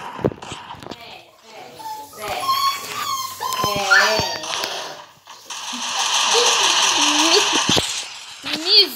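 Pet dog whimpering and crying after a bath, with high, wavering whines and yelps repeating over several seconds while people talk nearby.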